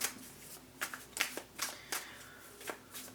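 Tarot cards shuffled by hand in a series of crisp riffling bursts and soft slaps, close and fairly quiet, with a faint steady hum beneath and no talking.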